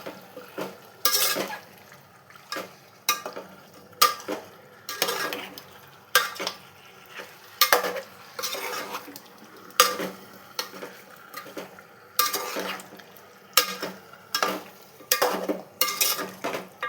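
Chicken curry masala with turmeric being stirred in a pan, a spoon scraping and clinking against the metal in irregular bursts over a soft sizzle, close and moderately loud with no talking.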